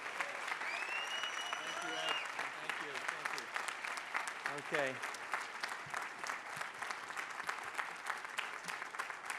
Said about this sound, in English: we should give him a special round of applause for his leadership